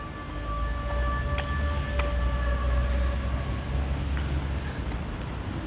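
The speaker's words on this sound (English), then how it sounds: "That's the little siren for the shipyard for their work schedule." Faint, steady tonal shipyard work-schedule siren drifting in from a distance over low traffic rumble in Yokosuka, sustained throughout.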